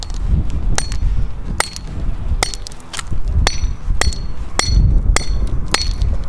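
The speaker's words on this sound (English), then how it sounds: "that is the hammer test." Repeated sharp metallic strikes land at irregular intervals, a hammer hitting an Olight Baton 3 flashlight about a dozen times, loud and close over a rumbling background.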